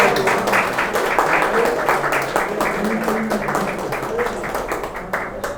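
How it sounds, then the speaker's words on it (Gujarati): Audience clapping for a birthday at a photography business talk, a dense, loud, sustained round of applause with some voices underneath. "એક વખત આપણે બર્થડે માટે બધા જોરદાર તાળી પાડી દો બધા."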